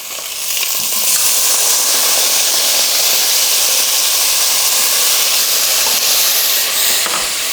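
A tomato drops into a hot cooking pot and sets off a loud, sustained steamy hiss and sizzle that holds steady for several seconds, with no talking.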